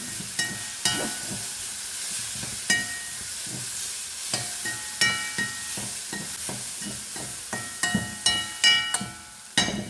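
Ridge gourd with chili, turmeric and salt being stirred in a hot pan, with a continuous sizzle under frequent clanking, scraping spatula strokes that come in quick irregular bursts, close and loud.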